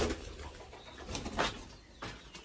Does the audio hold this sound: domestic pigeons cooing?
yes